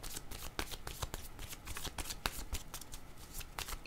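A deck of cards shuffled by hand for a tarot-style card reading, a dense run of riffling snaps and soft flicks repeating steadily throughout, close and fairly quiet, with no voices.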